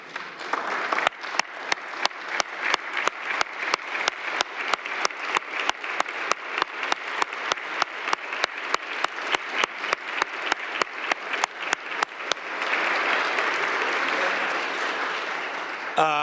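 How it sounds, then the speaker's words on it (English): Council members and attendees at a Cleveland City Council meeting stand and applaud, a steady round of clapping that runs for about sixteen seconds and thickens into a dense, even wash near the end. "give them a round of applause for their service"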